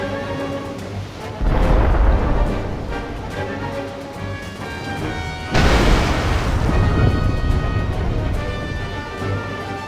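Deep booming blasts of enemy cannon fire in the video game Final Fantasy War of Visions roll out twice, each a heavy low burst that lingers into a rumbling wash, loud and close with no talking.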